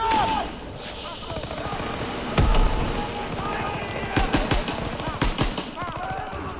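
Rapid bursts of automatic gunfire crackle in a military video game firefight, some volleys sharp and close, others rattling on under shouted dialogue and background battle noise.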